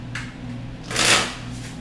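Tarot cards riffled in one quick shuffle, a soft papery burst that swells and fades within a second, close by over a low steady hum.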